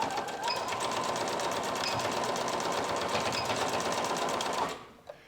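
A sewing machine stitches over a seam on a homemade top, a loud, fast, even run of needle strokes lasting several seconds before it abruptly stops, followed by a faint click.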